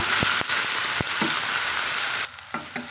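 Three chopped tomatoes sautéing with onions in a pan for a potato-tomato kurma, a steady close sizzle broken by a few sharp clicks of a spoon.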